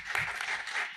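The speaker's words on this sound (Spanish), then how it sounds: "Vamos a pedir un fuerte aplauso para él." Brief burst of audience applause at a regional history lecture in Maldonado welcoming a speaker, dense steady clapping throughout.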